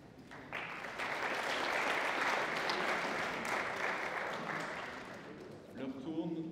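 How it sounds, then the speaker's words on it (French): Audience applause for the president of the French Republic at a conference, a sustained, fairly distant wash of clapping lasting several seconds before fading into a voice at the end. "Vous pouvez applaudir le président de la République."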